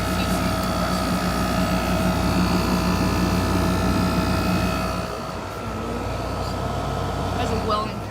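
A Frigidaire air conditioner, a few years old and dirty, runs outdoors with a steady droning hum and tonal whine, its level dipping slightly partway through, with no talking over it.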